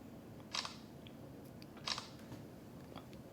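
Shutter clicks from a Samsung Galaxy Z Flip 3 taking pictures with its front selfie camera: two crisp, close clicks about a second and a half apart, with a fainter click near the end over a quiet room hum.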